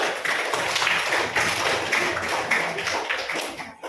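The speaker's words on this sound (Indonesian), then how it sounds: "Tepuk tangan untuk kita semua." A classroom of students applauding, a steady dense clatter of many hands clapping close by for several seconds before fading out.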